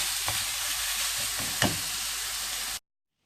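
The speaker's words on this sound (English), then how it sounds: "We're going to throw in all our little thigh pieces in. Mix them up and let them cook for a bit till they go brown." Chicken thigh pieces fry in a hot pan with a steady loud sizzle, as a utensil stirs them with a couple of soft knocks against the pan; the sound cuts off abruptly at the end.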